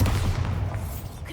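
A Bombarda explosion spell in Hogwarts Legacy lands as a deep, rumbling blast that holds loud and low for about a second before slowly fading.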